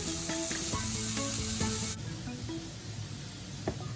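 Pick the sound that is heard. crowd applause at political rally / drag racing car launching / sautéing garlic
sautéing garlic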